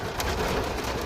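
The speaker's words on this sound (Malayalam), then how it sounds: "ഓ, നല്ലോണം വെള്ളം, നല്ല മഴ കേട്ടോ." Heavy rain pouring down in a continuous loud, dense hiss, steady and close throughout with no voices.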